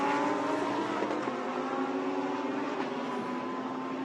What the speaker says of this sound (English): In comes the GT4 class leading BMW.